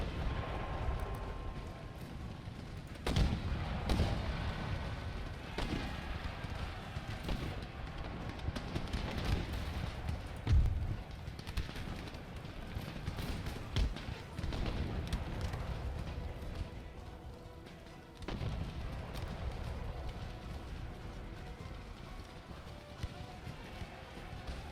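Musket volleys and artillery fire boom through an Empire: Total War battle with Polish-Lithuanian forces against militia, a dense continuous roar of overlapping shots and blasts with sharp louder reports standing out.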